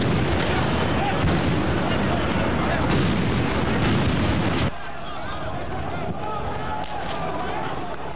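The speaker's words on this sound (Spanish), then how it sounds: "Granadas de aturdimiento, granadas de gas" Stun grenades and gas grenades going off at a student street protest in São Paulo, Brazil: loud overlapping blasts and crowd commotion for several seconds, then a quieter, thinner stretch of noise.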